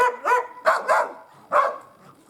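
A hunting dog that works forest game birds and marten gives a quick series of about five sharp, close barks in short bursts, with brief pauses between them and no speech over them.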